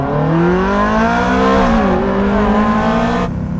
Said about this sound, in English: what I consider one of the last Ferraris to have the screaming naturally aspirated V8